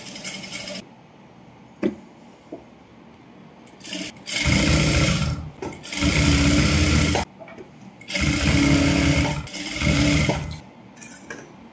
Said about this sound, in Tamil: இப்போ லைனிங்க உள்ள தள்ளி விட்டு சுத்தி நம்ம நெக்குக்கு தையல் போட்டுக்கலாம்.